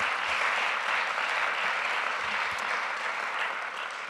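Steady, dense applause rolls through an education reform celebration crowd in honor of three chancellors, even and continuous from start to finish at moderate distance.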